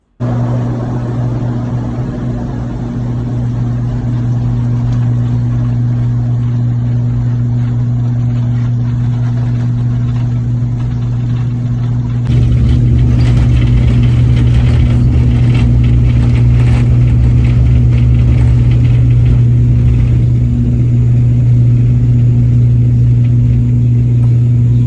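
Airliner taking off from Siargao airport, heard from inside the cabin: a steady loud engine drone with a low hum that swells into a stronger roar partway through as the plane accelerates, with no talking.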